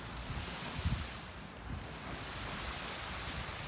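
Sea waves wash onto the wide sandy shore of Karasu beach in Sakarya, Turkey, as a steady, rushing surf roar mixed with wind buffeting the microphone, with no voices.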